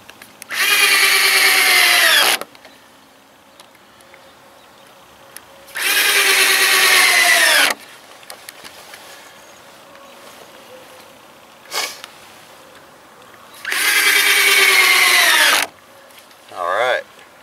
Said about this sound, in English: My drill's getting very low on power.